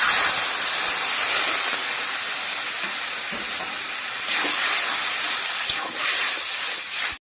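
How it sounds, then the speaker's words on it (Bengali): Spiced gravy for an egg and whole-onion curry sizzles and hisses in a frying pan after a splash of water, a steady, loud, steamy crackle running unbroken until it cuts off abruptly at the end. "মশলাটা যাতে পুড়ে না যায় তার জন্য সামান্য একটু জল দিয়ে দেবো, দিয়ে গ্রেভিটা খুব ভালো করে কষিয়ে নেব।"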